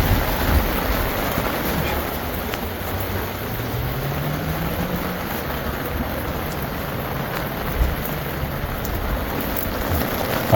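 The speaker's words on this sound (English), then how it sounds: "It is raining." Steady rain falls across a garden, a continuous dense patter on leaves and surfaces with a faint low rumble beneath, alone and fairly loud throughout.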